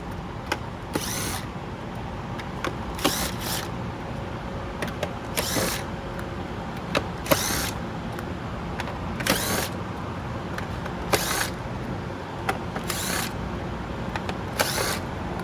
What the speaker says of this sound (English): we'll start pulling all these back screws out